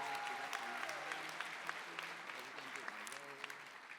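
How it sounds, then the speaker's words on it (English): A graduation audience gives a round of applause for two master's degree graduates, steady clapping over about four seconds with a faint voice talking underneath. "Let's give a round of applause to our 2 master's degree graduates today."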